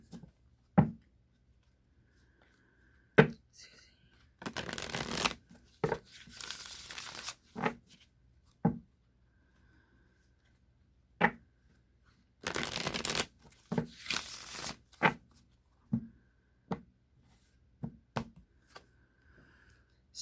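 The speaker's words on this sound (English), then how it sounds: "I'll shuffle 3 times, cut the deck, draw a card, and then repeat another 2 times." Tarot cards shuffled in several bursts of riffling and crisp slapping, each burst a second or two long, separated by quiet gaps and single sharp taps as the deck is cut and cards drawn, close and alone.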